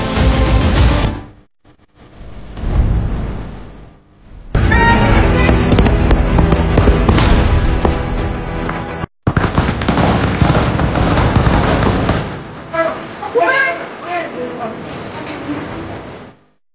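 Firecrackers carried by a fallen hot air balloon burst in loud, dense crackling volleys near residential houses, with rapid popping and booming continuing in several long bursts separated by brief pauses.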